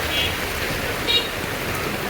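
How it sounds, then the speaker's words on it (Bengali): Steady rain falls at the Shootingbari vegetable market, a continuous close hiss of drops on surfaces with no voices. "আরো দেই বৃষ্টি শুরু হয়ে গেছে।"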